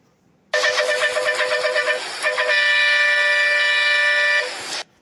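A bus horn, the MJ Horn 3 in the game Bus Simulator Indonesia, blares loud and close in two sustained tonal blasts, a brief break and then a longer held blast.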